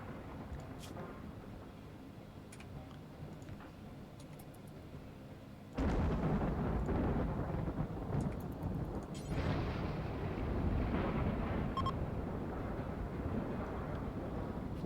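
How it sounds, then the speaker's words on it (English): Thunder rolls from a flash storm in the video game RimWorld, a low rumbling that swells abruptly partway through and stays loud and continuous, with no talking. "Flash storm is ending."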